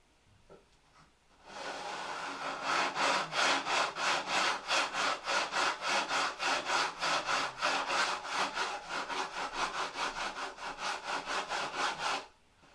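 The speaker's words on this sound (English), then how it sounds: "You can hear it when it goes over the glue. It makes that grinding noise." A close, harsh rhythmic grinding of a tool working back and forth across glued wood, steady strokes repeating for about ten seconds, then stopping.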